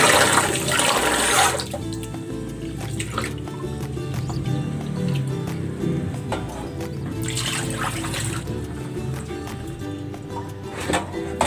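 Glutinous rice (malagkit) is washed in water in a kitchen, with pouring and splashing at the start and near the middle and softer sloshing and dripping between, close and without talk.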